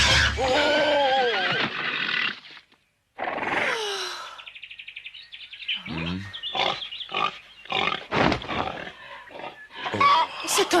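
A cartoon pig squeals, high and wavering, mixed in with animated character voices and chirpy cartoon sound effects, followed by a string of short comic bursts.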